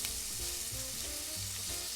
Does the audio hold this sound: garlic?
yes